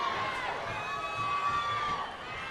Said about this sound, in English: Crowd on their feet, chilling for Humberto Martinez